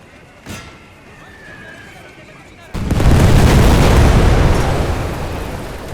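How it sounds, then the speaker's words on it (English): Grenades burst in a WWI strategy video game. One sharp blast comes first, then a loud, sustained roar of explosions takes over and slowly fades, while someone talks. "Can I get another throw of grenades on these lads to destroy them?"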